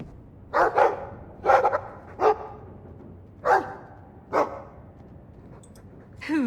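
A dog in the game Dragon Age 2 lets out a run of short, sharp barks and yips in irregular pairs and singles, fairly close, ending in a whining whimper.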